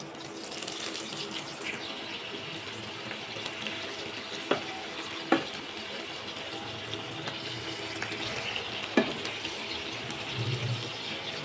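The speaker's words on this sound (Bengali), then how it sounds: "লবণ হলুদ মেখে এটাকে আমি তেলে ভেজে নিব" Shrimp coated with salt and turmeric frying in oil, a faint steady sizzle with a few soft clicks and pops, no talking.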